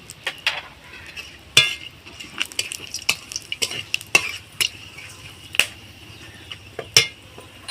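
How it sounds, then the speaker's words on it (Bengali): Whole spices, cinnamon, cloves and cardamom, sizzle in hot ghee and refined oil for Basanti pulao, with a soft steady frying hiss broken by frequent sharp pops and crackles, close and alone without talk. "এইভাবে আমি গরম ঘি আর রিফাইন অয়েলের মধ্যে দিয়ে দিলাম তারপরে ডালচিনি লবঙ্গ আর এলাচ এর মধ্যে দিয়ে দিলাম"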